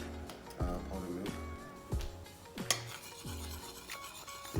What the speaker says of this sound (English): now I have to mix the milk